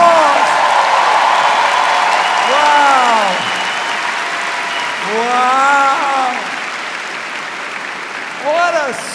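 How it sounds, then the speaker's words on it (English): Audience at a stand-up comedy show claps continuously in a dense wash, while a voice on the microphone exclaims over the applause a few times. "Give them a round of applause."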